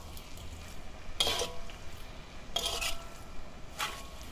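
Kuey teow noodles with prawns being stir-fried in a wok, with three distinct bursts of scraping and tossing about a second apart over a steady low sizzle, close and fairly quiet.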